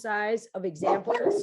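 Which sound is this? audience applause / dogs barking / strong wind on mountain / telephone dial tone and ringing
dogs barking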